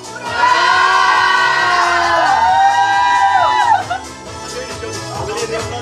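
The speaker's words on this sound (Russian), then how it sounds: "Все кричим «Ура!»" Guests at an 18th birthday party cheer and shout hooray together, a loud crowd of voices whooping and yelling close by, dipping briefly before rising again.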